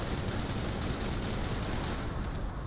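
Sustained gunfire from The First Descendant: a dense, continuous rattle of rapid shots sweeping back and forth at steady loudness, with no voices over it.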